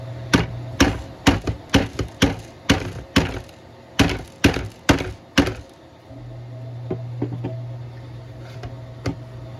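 A screwdriver is hammered to punch a broken center pin out of an Evergreen Chia miner, giving about a dozen sharp, close metallic knocks in an uneven series. A steady low hum fills the pauses and continues after the strikes stop.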